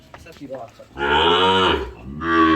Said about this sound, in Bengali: একটা বাছুর চিল্লাচ্ছে